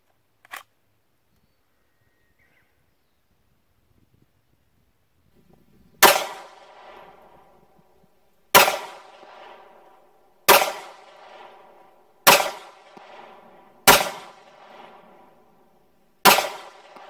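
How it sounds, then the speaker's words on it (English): Pistol fired six times in a one-hole drill on a range, sharp loud single shots spaced about two seconds apart after a quiet lead-in. "We're going to fire a one-hole drill, 6 rounds into the center black square on the fire command"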